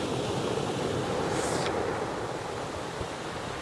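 Sea waves wash steadily onto the beach at Port Ouest, Réunion, a loud, continuous broadband surf roar with no talking.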